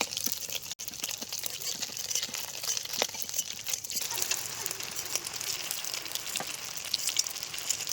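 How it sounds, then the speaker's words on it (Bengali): Soft, continuous crackling sizzle of eggs frying in oil, with scattered small pops and spits throughout and no talking. "একটু হালকা গরম করে ডিমটা হালকা করে ভেজে নিতে হবে।"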